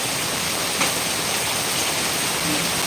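Steady, dense downpour of heavy monsoon rain during a thunderstorm, a continuous broadband hiss with no breaks, fairly loud and even throughout with no voices.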